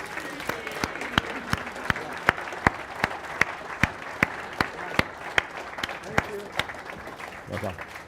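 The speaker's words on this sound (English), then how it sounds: "And please, a round of applause." Auction-room crowd applauding at the Bonhams Festival of Speed sale, a broad patter of clapping punctuated by regular, loud individual claps close by, with a brief voice near the end.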